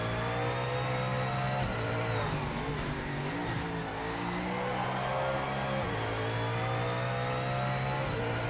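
Race car engine in the Le Mans Ultimate racing game, a steady loud drone with gear changes and revving pitch shifts throughout, heard alone without talk.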